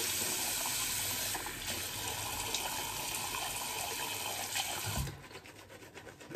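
Water from a bathroom tap splashes onto a shaving brush with a loud, close, continuous rush that cuts off abruptly near the end, leaving faint dripping and handling sounds.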